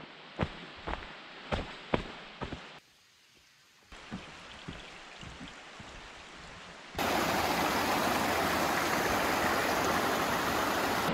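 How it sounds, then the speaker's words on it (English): A swollen river rushing across a hiking trail crossing on Mount Chocorua in New Hampshire, first heard faintly behind a few footstep-like knocks and splashes, then bursting into a loud, continuous close-up roar of water. "Today, more like a full-blown river crossing here."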